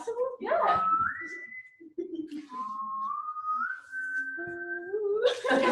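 A person whistling, several sustained tones that slide up and shift in pitch, each held for a second or more, with short gaps and breaths between them and close to the listener.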